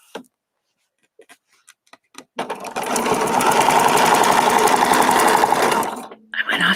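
A sewing machine stitches fabric in one sustained run of about three and a half seconds, loud and close with a fast rhythmic chatter, preceded by a few small taps and ending in a short pause before more handling.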